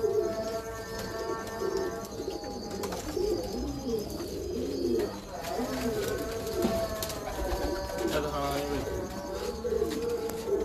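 Breeder pigeons coo steadily and close by in repeated rolling calls, with someone talking over them throughout.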